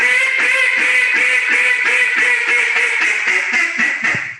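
A Jargon Game Calls Loudmouth duck call blown up close and loud, a fast steady string of raspy quacks that stays even in rhythm and trails off at the end.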